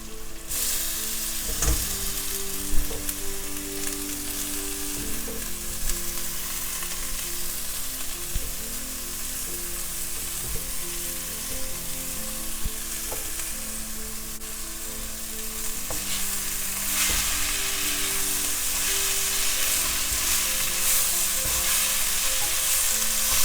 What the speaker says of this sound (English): So now turn the heat low, and I'm going to add the greens, the chopped greens.